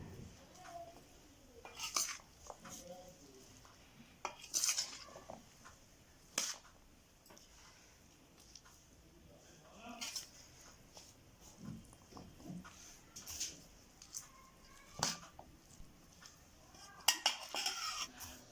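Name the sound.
stirring chickpeas with oil and spices in a pan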